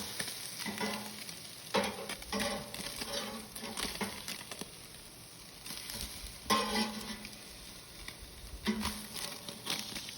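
Salmon pieces on a grill, sizzling and spattering as they are flipped, with bursts of crackle and occasional utensil scrapes, close and moderately loud, with no talk.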